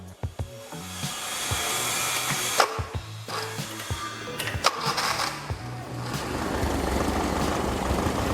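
A car engine in a vocational school workshop, with a timing light connected to spark plug cable number one, starts and runs at a steady fast idle, a continuous whirring drone with a few clicks near the start.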